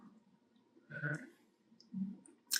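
Mouse clicks while working in Blender on a computer, three soft, close clicks spaced about a second apart against a quiet background.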